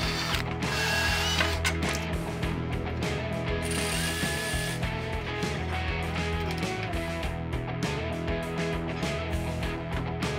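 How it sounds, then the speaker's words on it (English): Ratchet clicking steadily while tightening a 1/4 inch carriage bolt and flange nut on a low voltage bushing support in a Maddox transformer, close, continuous rapid pawl clatter with no talking. "Now take your 1/4 inch carriage bolt along with a 1/4 inch flange nut and bolt together."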